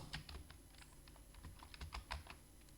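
Keys clatter on a computer keyboard as text is entered into Tally accounting software, a quick irregular burst of soft, close clicks in an otherwise quiet room.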